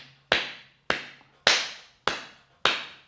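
Five firm, evenly spaced hand claps made with the fingers spread and the palms meeting flat, each a sharp, full crack about half a second apart, close and alone with no talking.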